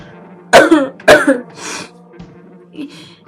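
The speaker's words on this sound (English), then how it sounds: "I'm sorry, I have the coughs." Two hard, close coughs in quick succession, followed by a softer breathy exhale and a faint throat sound.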